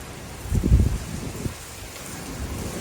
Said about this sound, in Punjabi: ਹਵਾ ਵੀ ਚੱਲਦੀ ਆ ਤੇ ਮੀਂਹ ਵੀ ਪੈਂਦਾ